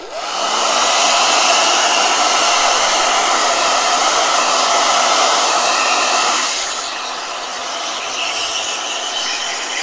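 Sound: blow dryer running

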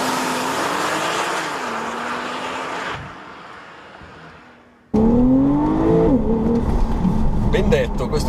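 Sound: flat-six turbo sports car engine accelerating

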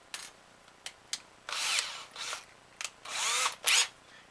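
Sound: chucking a 1/16 inch bit into a drill

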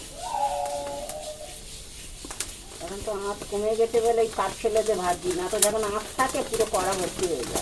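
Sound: paddy being dry-fried to make Kanakchur khoi (popped rice)

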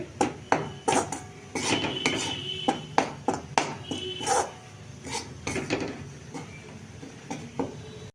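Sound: stirring food in a pan

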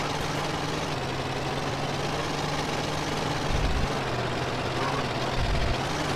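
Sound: old van engine running in GTA San Andreas video game

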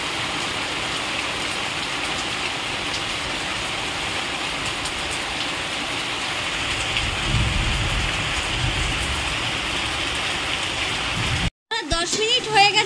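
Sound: rain falling outside

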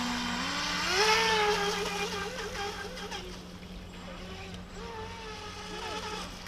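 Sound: RC boat motor on water

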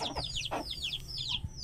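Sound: Heera breed hen clucking

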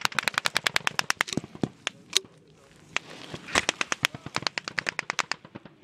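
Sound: gunfire during Taliban attack in Afghanistan

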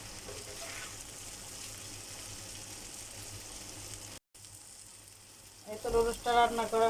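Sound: noodles being stirred and fried in a pan

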